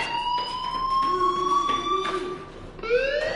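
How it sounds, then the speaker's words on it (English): A fire alarm blares in a PS4 video game, a loud electronic siren with steady wailing tones that shift pitch, continuous and close. "Hey, do you hear that fire alarm?"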